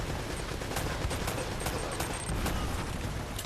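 Enemy shotgun fire in Uncharted: Drake's Fortune, set during a fort assault, with steady overlapping shots and blasts forming a continuous, fairly distant barrage of combat noise.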